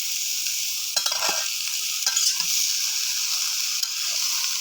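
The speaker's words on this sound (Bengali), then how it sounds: "এই টমেটো দিয়ে আলু ভাজি চুলাতে রান্না" Tomato and potato bhaji fries on a clay stove, a steady loud sizzle broken by several scraping stirs of the spatula, with no voices.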